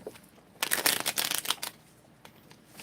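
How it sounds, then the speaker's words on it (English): A quick burst of tarot cards riffled and shuffled close by, a fluttering flurry that fades into quiet handling. "Shuffle these a little bit more."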